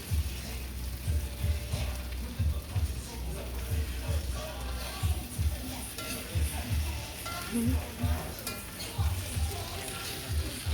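Fish frying in a pan for a Bruneian-style fish dish gives a steady, dense sizzle with a rhythmic low bubbling and spattering throughout, close and moderately loud, with no voices.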